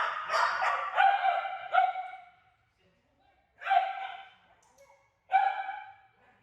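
Reactive dog in a training class barking in short bursts: a cluster of sharp barks, a pause, then two more separate loud barks, close and clear with brief quiet gaps between them.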